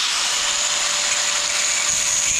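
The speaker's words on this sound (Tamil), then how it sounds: "கிரைண்டிங் மிஷின் வச்சு நல்லா கிரைண்ட் பண்ணி எடுத்துக்கிறேன்" A power grinding machine cuts into a bicycle handlebar, giving a steady, loud, high-pitched abrasive whine that holds constant throughout with no pauses.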